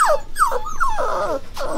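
Young Aussiedoodle puppies at six and a half weeks old whine and whimper in a string of short, high, falling cries, close and fairly loud.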